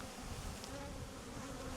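Honeybees buzz steadily and close by at a beehive on a Greek island, where thyme honey is made. The drone is dense and continuous, with no talk over it.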